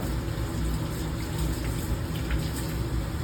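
Deionized water running steadily for a final rinse in a lab polishing setup, a faint, continuous gush and trickle with no talk.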